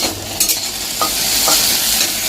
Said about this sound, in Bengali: এই ঢেঁড়স ভাজা করছি